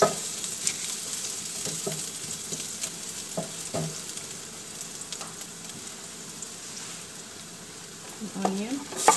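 Garlic sizzles and crackles steadily in hot oil in a pan, a continuous fry hiss with a few soft clinks and stirring noises, heard close up with no talking.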